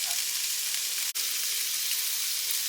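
Chicken and stir-fry vegetables sizzle steadily in a skillet over medium heat, a bright continuous frying hiss with one brief dip partway through.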